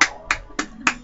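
Four sharp hand slaps in quick, even succession, crisp and close, with no talking between them.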